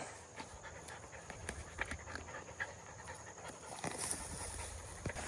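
Rabbit hunting dogs panting steadily up close, with rapid rhythmic breaths, faint footsteps and rustling outdoors, no talk.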